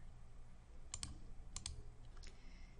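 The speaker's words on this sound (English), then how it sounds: "you can start typing in the first letters of a last name" Several quick keystrokes click on a computer keyboard, arriving in small pairs and short bursts, faint and close against a low background hum.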